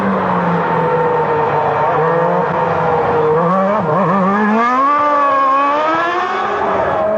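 Formula One cars, with Schumacher and Hill in the field, pull away from the line at a race start, a loud continuous chorus of high-pitched engines rising and shifting in pitch as they accelerate together, with no voices.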